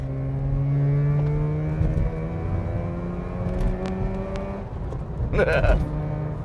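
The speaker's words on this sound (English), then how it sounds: "And then pass this truck." A vehicle drives past a truck, with a loud, steady engine drone and droning tones that shift in pitch as it passes, close and continuous.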